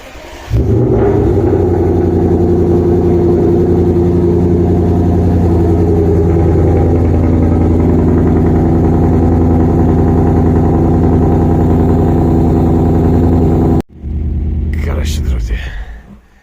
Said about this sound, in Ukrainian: Заводиться вона просто фантастично, бурчить вона.